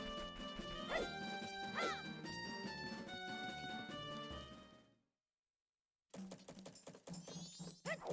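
A dog in Majora's Mask barks and yips in short, game-style bursts with pitch sweeps over clattering game sounds, then silence for about a second before the noise resumes.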